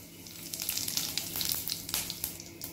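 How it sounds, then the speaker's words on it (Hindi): Whole spices, including a cinnamon piece, whole coriander, cumin, a black cardamom and asafoetida, sizzle in hot oil for a bitter gourd curry, giving a steady close crackling fry with rapid popping bursts. "अब इन्हें हम सभी को तेल के अंदर छोड़ देते हैं"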